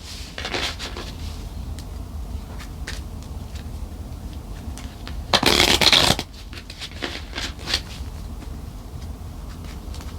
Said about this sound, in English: I'm going to pull a couple text cards here and then we'll close the reading.